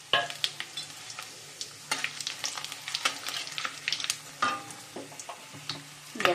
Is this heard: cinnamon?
yes